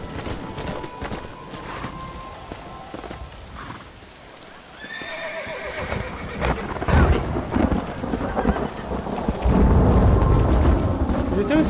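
In Red Dead Redemption, rain falls and thunder rumbles heavily, swelling loud near the end, along with clopping hooves and a horse whinnying, while someone talks now and then.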